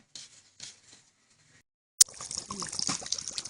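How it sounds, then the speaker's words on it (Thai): Coconut water is poured over vegetables for pickling. A few faint sounds come first, then a sudden splash starts a steady, close liquid pour that lasts to the end. "เทน้ำมะพร้าวใส่ค่ะ ให้ท่วมผักเขา"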